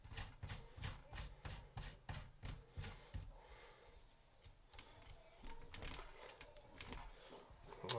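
Rhythmic metallic rubbing and rasping as a homemade flash suppressor built from washers is threaded onto an AR-15 barrel, a steady close series of twisting scrapes that pause briefly midway before resuming.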